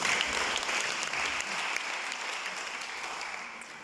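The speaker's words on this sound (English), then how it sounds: "So can you all clap for them for having listened?" A seated audience claps together in sustained, even applause that holds at a steady level for several seconds before easing slightly.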